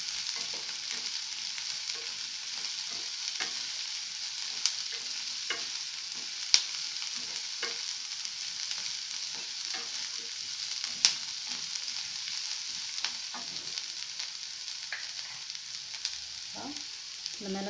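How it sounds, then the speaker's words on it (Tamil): Cauliflower stir-fried in a pan for a Tamil home-style cauliflower and egg scramble: a steady close sizzle and frying hiss, broken by frequent light scrapes and taps of a stirring spoon, with no talk. "காலிஃப்ளவர் ஆட் பண்ணி"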